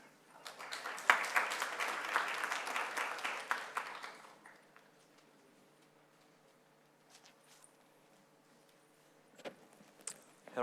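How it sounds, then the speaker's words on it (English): A conference audience at a customs and trade forum applauds for about four seconds, fairly faint and roomy, then the hall goes quiet with a few scattered footsteps and small knocks near the podium. "Big applause, please."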